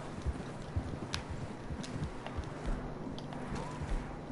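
Horse hooves clip-clop over the ground in the video game Red Dead Redemption 2, a steady uneven plodding of soft, fairly faint strikes over a low ambient bed, with no talk.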